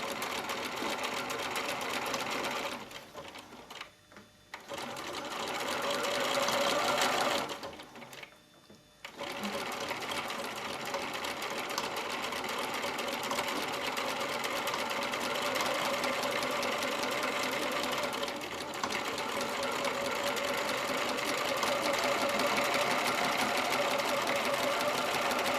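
A sewing machine stitches a cut-and-sew seam on machine-knitted fabric, whirring steadily up close with two brief pauses early on before running on continuously.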